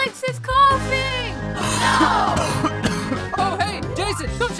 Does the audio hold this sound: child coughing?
yes